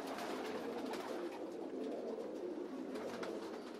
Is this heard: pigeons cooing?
yes